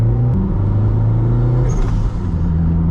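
A 400hp Toyota MR2 over 30 years old pulls away in first gear, its engine a loud, deep steady drone heard from inside the car, rising slightly as it moves off.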